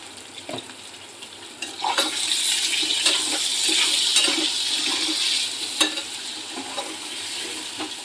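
Pointed gourd curry is tempered and fried in a pan, with a hissing sizzle that swells as the vegetables go in, plus stirring and clanks.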